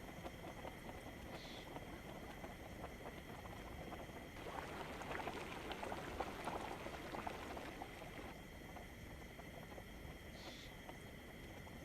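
Movement through water in the DayZ survival video game, a steady, soft sloshing and bubbling wash lasting about twelve seconds, faint and continuous, swelling slightly in the middle, with no talking.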